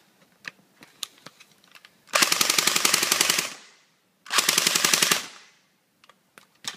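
An airsoft gun on a running-low 9.6 volt battery firing full auto, two loud, rapid mechanical rattling bursts of about one and a half and one second, with scattered single clicks and handling taps around them.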